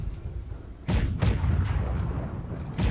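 Cannons on a schooner in a naval video game fire a broadside as three loud booming shots, two close together and one more after a pause, each with a rolling low rumble.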